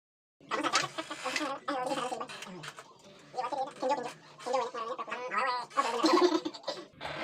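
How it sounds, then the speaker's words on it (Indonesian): An Eclectus parrot (Nuri Bayan, Eclectus roratus) gives a close, loud series of harsh squawking calls in irregular bursts with short pauses between them. "cuman ini itu namanya Nuri Bayan guys"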